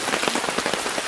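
Steady rain pattering on a surface at an Appalachian deer hunting camp, a dense close hiss of drops with no talk, continuous through the short stretch.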